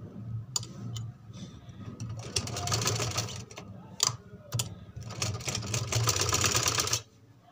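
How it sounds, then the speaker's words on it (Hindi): A sewing machine stitches the fitting seam of a baby frock in two fast rattling bursts, broken by a short pause and sharp clicks, fairly close and moderately loud. "अब हम लास्ट में इसकी फिटिंग की सिलाई लगा देंगे।"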